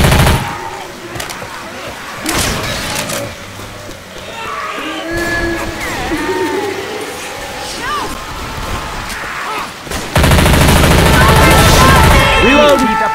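Rapid gunfire from Left 4 Dead 2 rattles through dense game audio, with bursts of shots, explosions and effects layered over players talking throughout; the mix grows louder and busier toward the end.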